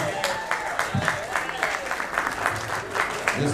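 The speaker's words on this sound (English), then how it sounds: "Give a nice round of applause on him." An audience at a Munsters Q&A event applauds, a dense run of clapping that holds steady throughout, fairly close, with some crowd noise mixed in.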